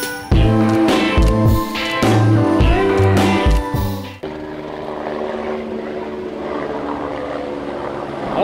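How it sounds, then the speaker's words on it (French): Tour helicopters fly over the Nā Pali Coast on Kauai, Hawaii, heard from a hiking trail as a loud, rhythmic rotor chop for about four seconds that then drops to a fainter, distant engine drone. "Ça c'est les hélicos qui font le tour de la Napali Coast."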